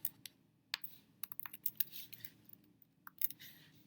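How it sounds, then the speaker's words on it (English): Computer keyboard typing during a DNA sequence analysis task on a computer, with irregular clusters of sharp keystrokes close by. Short pauses separate the bursts, and a low steady hum runs underneath. "So that I can then type into my"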